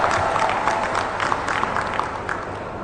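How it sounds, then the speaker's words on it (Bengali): Applause for graduating students at a Chittagong University convocation ceremony, a steady wash of clapping from a large crowd that keeps up through the whole stretch with no speech over it. "তাদের জন্য জোরে একটা হাততালি দিয়ে আমরা তাদেরকে অভিনন্দন জানাচ্ছি"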